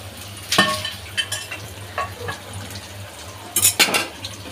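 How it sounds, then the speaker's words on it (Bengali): Pumpkin leaves are stirred and sautéed in a pan for a hilsa fish dish, with a utensil scraping and clinking against the metal in irregular strokes over a low sizzle, close by and with no talking. "এভাবে শাকটা আমি ভালো করে কষিয়ে নেব।"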